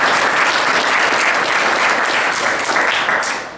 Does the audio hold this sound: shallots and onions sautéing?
no